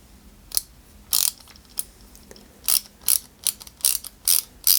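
Small screws being driven into the brake drum of a Citroën 2CV AZLP scale model kit, heard as a series of sharp, close ratcheting clicks in short bursts with pauses between them, no talking.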